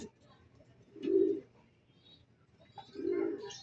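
A male racing pigeon coos outside the loft, two low throaty bursts about two seconds apart, close and moderately loud over a quiet background.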